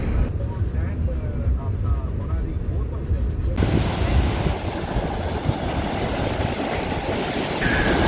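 Ocean waves wash onto Maravanthe Beach in Karnataka in a steady, broad roar of surf and wind that swells louder midway through. Someone speaks over it.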